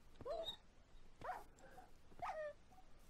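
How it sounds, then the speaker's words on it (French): Whimpering dog in the Minecraft Feed The Beast modpack, near a lava lake: three separate high, whining cries spaced about a second apart, each rising then trailing off, fairly close and clear over a quiet game background. "Oh non, mon chien est en train de mourir."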